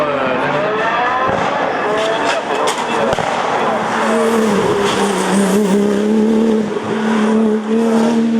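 Porsche 997 GT2 race car at a hill climb start line, its engine droning loudly and steadily with rising and falling harmonic pitch, while a commentator talks over it throughout.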